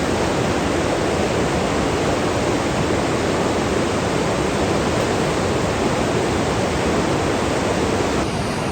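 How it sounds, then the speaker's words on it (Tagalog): A rain-swollen forest stream rushes in a steady, loud, broadband hiss of running water, unbroken and close by, with no voices. "Kasi ano po ito running water"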